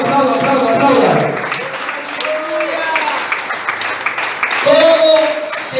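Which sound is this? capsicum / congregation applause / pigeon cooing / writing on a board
congregation applause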